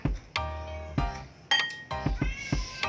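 A cat meowing close by, several short, insistent meows in quick succession with a few brief thumps between them.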